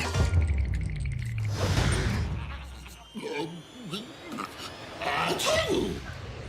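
A single sneeze bursts out near the start, followed by people talking and murmuring.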